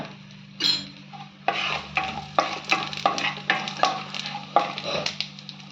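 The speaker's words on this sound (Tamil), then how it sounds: "இப்போ கடுகு ஜீரகம் போட்டுக்கோங்க" Mustard seeds and cumin fry in hot ghee for sambar rice, a continuous sizzle broken by rhythmic scraping strokes of a stirring spoon, close and fairly loud.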